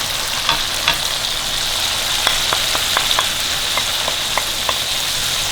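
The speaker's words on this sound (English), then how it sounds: "Put the gas down a little bit, and now you let this fry for at least 4 minutes." Chilies, turmeric and salt frying in oil over a lowered gas flame for lime pickle, a steady close sizzle with scattered sharp pops and crackles.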